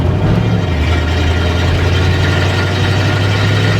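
Chevy mule hauler truck, revived after twenty years parked in the desert, idling with a steady low rumble and even throb, close and loud, no talk.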